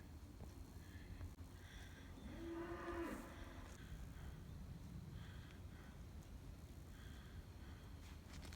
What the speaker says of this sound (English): Bull never gets tired of mooing.